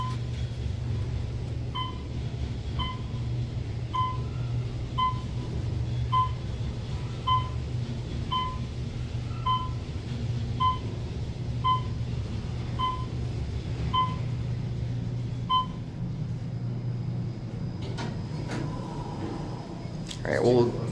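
Steady low hum and rumble of a 2003 Otis Series 4 Elevonic 411 traction elevator riding up at the Ritz-Carlton, with evenly spaced soft floor-passing beeps repeating through most of the ride and a brief clatter near the end.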